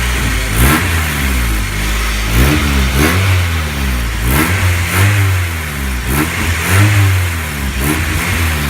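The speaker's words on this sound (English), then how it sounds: "you can have somebody hold the throttle at 1500 RPM to 2000" A car engine is held at 1500 to 2000 RPM while its cooling system is bled, a close, loud, steady mid-pitched drone with repeated slight rises and dips in revs.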